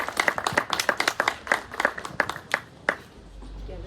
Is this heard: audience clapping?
yes